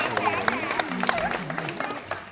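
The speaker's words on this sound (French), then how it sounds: "merci de les encourager par vos applaudissements" A crowd claps at an outdoor Bastille Day ceremony in a French village, scattered applause running under a voice that keeps talking, moderately loud and steady.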